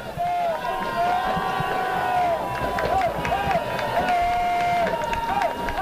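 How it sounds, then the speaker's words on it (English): A stadium crowd roars during a 2018 college football game between Westminster and Case Western, a continuous loud swell of cheering beneath an excited play-by-play commentator's voice. "You can hear the crowd absolutely roaring right now."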